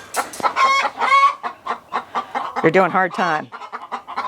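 Broody hen in a chicken coop gives a run of loud, close clucks and squawking calls, with a person talking over them part of the time.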